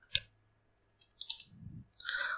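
Computer keyboard typing, a few sparse, quiet key clicks spread over about two seconds with small gaps between them, close and dry in a quiet room.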